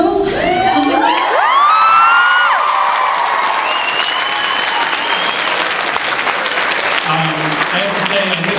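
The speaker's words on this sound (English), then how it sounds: "So I think we should give another round of applause" Loud audience applause at a fan convention panel at Edmonton Expo 2012, mixed with cheering and whoops, rising voices and shouts over a steady wash of clapping that continues throughout.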